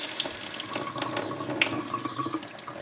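Lukewarm water runs steadily from a tap into a sink, a continuous close splashing rush that keeps up throughout without any talk.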